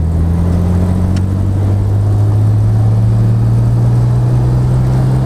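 A Jaguar E-Type rounds a corner, its engine a loud, steady drone with a low hum that climbs slightly in pitch, heard alone without talk.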